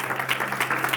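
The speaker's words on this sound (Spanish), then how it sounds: "Dale ese fuerte aplauso al Señor" Church congregation giving the Lord a loud round of applause during a sermon, many hands clapping in a dense, even patter with a steady crowd wash and no speech.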